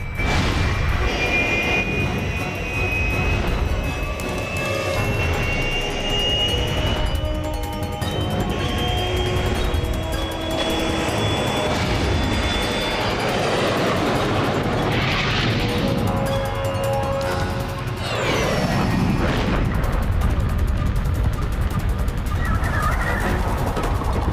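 An airplane engine in a French action film drones and whines steadily, with a slowly rising tonal hum over a rumbling, busy soundtrack at an even, fairly loud level throughout.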